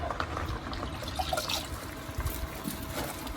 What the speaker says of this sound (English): I'll wring this out.